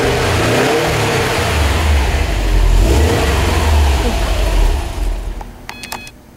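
A 2011 Subaru WRX STI engine rumbles low and loud close by, swelling into a rev before dropping away, followed by a few short electronic chimes.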